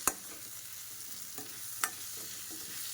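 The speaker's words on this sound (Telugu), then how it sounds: "ముక్కలకంతా పట్టేలాగా బాగా మిక్స్ చేసేసుకుందామండి." Jackfruit seed curry being stirred in a pan, with a few sharp scrapes of the spoon against the metal over a soft, steady background hiss.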